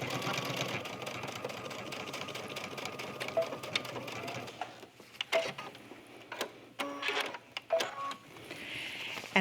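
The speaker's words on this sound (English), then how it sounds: "go to the machine and just stitch a 1/4 inch seam the way we normally would" A home sewing machine runs a 1/4 inch seam on an accessory bag, a steady mechanical whir with ticking needle strokes that starts and stops in short bursts near the end.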